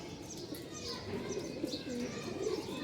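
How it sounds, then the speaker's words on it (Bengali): Pigeons, including racing pigeons, coming in to feed, with soft repeated cooing and light chirps over a low background hum, moderately close. "এই যে রেসার কবুতর রেসার না আরে কুল্লা কবুতর কবুতর আসে এদিকে"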